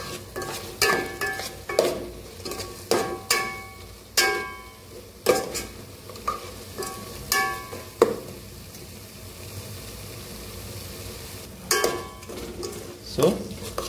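Tomatoes are stirred into masala in a pan, with a spoon clacking and scraping repeatedly against the metal over a soft steady sizzle, the strokes coming in uneven bursts.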